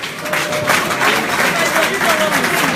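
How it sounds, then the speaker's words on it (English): Audience at an IPOB Europe general meeting clapping for honoured members, a crowd of hands applauding steadily with voices talking over it. "May we give a big clap for these our brothers"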